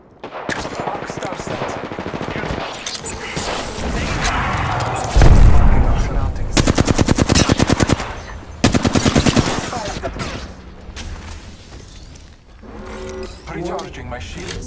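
Video game gunfire rattles in rapid automatic bursts, loud and sustained, with heavier booming shots and mechanical clatter mixed in.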